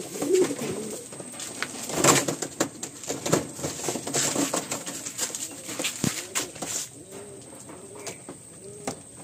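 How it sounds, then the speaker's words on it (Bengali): Madrasi and Andhra pigeons cooing in a loft, repeated soft throaty coos with rustling, wing flutters and occasional sharp taps, close and moderately loud. "একটু স্ট্যান্ডিংটা আপনাদের অবশ্যই আমি দেখিয়ে দেবো পায়রাগুলো।"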